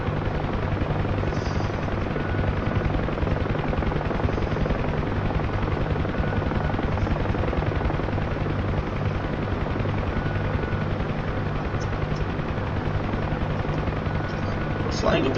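UH-1 Huey helicopter in a flight video game, a constant dense rotor and engine drone running unbroken and fairly loud throughout with no pauses.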